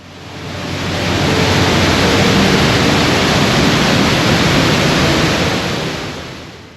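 Water rushes loudly and steadily at Tukad Waterfall in Ubud, Bali, a dense continuous roar swelling in over the first second and holding close and constant, with no voices.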